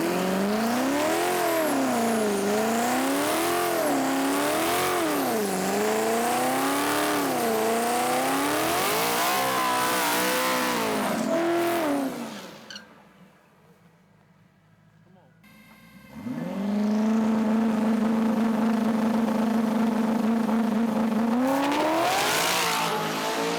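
The King Cobra drag race car runs a shakedown pass, its engine wailing and revving up and down in waves, dropping away briefly, then returning as a loud sustained drone, with people talking over it.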